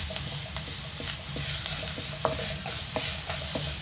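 Beef sizzles in a hot pan while a utensil stirs it, giving a steady frying hiss with regular scraping and clicking taps close up, no talking.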